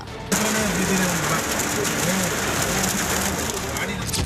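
Heavy rain with hail pours down in Bengaluru, a dense, steady hiss that starts abruptly and holds loud and unbroken, with a faint low cooing underneath.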